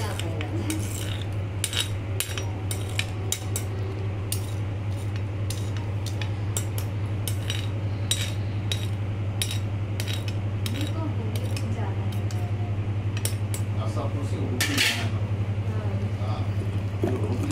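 Tomato chutney with chili being stirred in a pan, with repeated scraping and clinking of a spoon against the metal over a steady low hum, under continuous talking.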